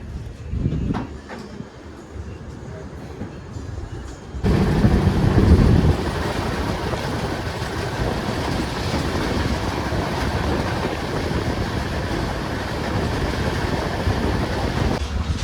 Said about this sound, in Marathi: ही आहे ट्रेन, केरळा क्रांती ट्रेन आहे, जी चंदीगडवरून आली आहे आणि जाते खाली केरळाला.